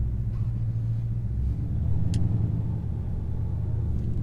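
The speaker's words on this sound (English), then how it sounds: "I'm in David's Challenger Hellcat. So I'm driving this to work." A Dodge Challenger Hellcat's V8 rumbles deep and steady from inside the cabin while driving, swelling briefly as the throttle opens before settling back.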